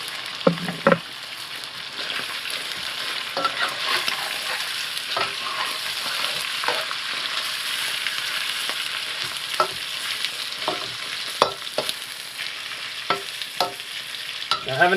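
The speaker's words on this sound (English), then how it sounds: "I'm just going to fry up the outside of the chicken first. And we'll add the pickled cabbage." Chicken frying with pickled cabbage for a Sichuan chicken hot pot, a continuous sizzle broken by repeated scraping stir strokes and clicks at an uneven rhythm, close and without talk.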